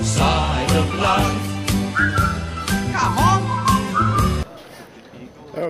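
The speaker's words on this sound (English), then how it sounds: "just purse your lips and whistle, that's the thing" A recording plays at a 2009 high school varsity football game; its whistled melody rises clearly over the singing and band, then the music cuts off abruptly, leaving quiet crowd ambience.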